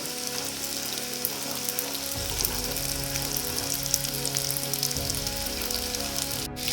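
Macaroni kurkure bubbles and sizzles in hot frying oil, a steady close crackle with a low hum underneath.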